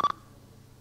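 Telephone tones during a 1997 radio call-in show: a short pair of beeps at the start and a faint blip near the end, with quiet line hiss between them.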